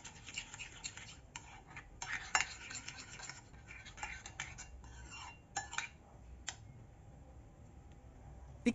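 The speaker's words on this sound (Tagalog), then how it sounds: "Haluin ng mabuti." A utensil stirs tuna tofu sisig with onions in a pan, producing faint scraping and clinking taps at an irregular pace, close but soft, with quieter stretches toward the end.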